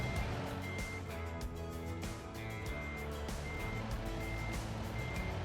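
Repeated electronic reversing beeps sound at a steady rhythm from a backing truck in American Truck Simulator, layered over a constant low engine rumble throughout.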